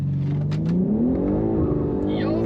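A BMW G80 M3 launches hard from a brake-boosted start, its engine note climbing loud and close as it pulls away over a couple of seconds.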